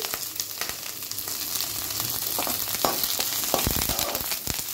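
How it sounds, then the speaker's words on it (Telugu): Red chillies and curry leaves fry steadily in hot oil for Andhra dhaniyala karam, a dense, continuous crackling sizzle with occasional sharper pops and stirring scrapes, close and alone. "మిరపకాయలు కరివేపాకు బాగా మాయిశ్చర్ అంతా పోయి ఫ్రై అయిపోయినాయండి"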